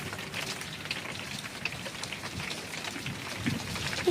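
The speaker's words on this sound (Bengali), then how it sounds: "কিন্তু বৃষ্টি পড়ছে" Steady rain patters down, a dense hiss of drops with occasional louder taps, even and moderately close, no voices.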